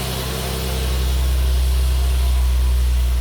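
A car engine idles steadily with a low, even rumble, close and alone, with no talk.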